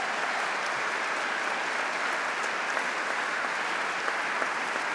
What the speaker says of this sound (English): please give a big round of applause to our platform guests